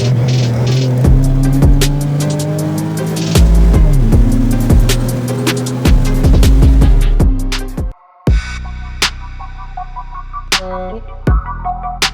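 A BMW E92 drives on newly fitted coilovers, heard from inside as a steady engine drone that rises and falls slightly, with frequent sharp clicks and knocks, loud and close.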